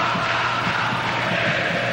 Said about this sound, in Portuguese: Torcida do São Paulo mais animada